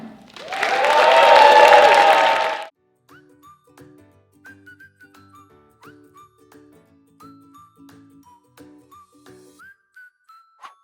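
A short burst of clapping and cheering from a crowd at a kids' community show in Detroit lasts about two seconds, then gives way to quiet, scattered whistle-like tones.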